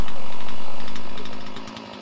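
A chainsaw roars at full throttle making a felling cut into a tree trunk, loud and close, with the engine note dropping slightly toward the end.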